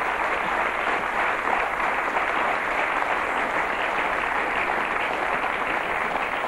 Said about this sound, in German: Und nochmal einen Applaus.